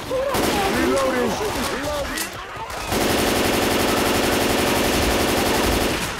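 Rapid continuous gunfire with explosive frag rounds in Left 4 Dead 2, a loud dense stream of shots filling the second half after a stretch of game noise and talking voices.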